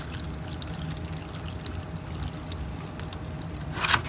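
Water poured into a seed-starting tray for bottom watering, a steady close trickle and splash running throughout with a brief louder gush near the end.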